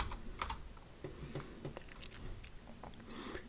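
Steady typing on a computer keyboard while entering Java code, with quick irregular keystroke clicks spread through the stretch and no speech.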